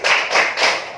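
A class of children claps three times in even rhythm as part of a chant, each clap broad and close, with no speech over it.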